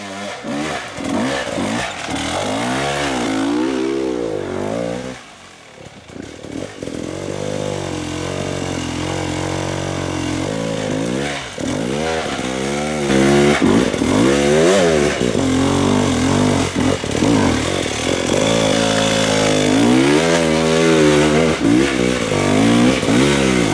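A dirt bike climbing a rough side hill during TKO practice at Wellsville, its engine revving hard in repeated rising bursts, briefly dropping off before pushing on loud and close.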